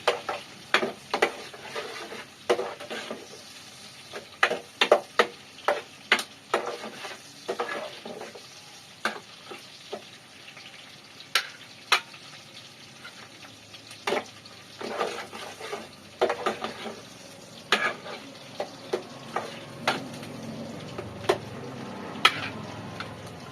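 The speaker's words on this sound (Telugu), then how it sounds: "ఉల్లిపాయలు అయితే మంచిగా ఫ్రై కావాలి" Onions fry in a pan for chicken curry, a soft steady sizzle punctuated by frequent sharp scrapes and taps of a stirring spoon, close and without talk.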